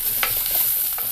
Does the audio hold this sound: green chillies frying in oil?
yes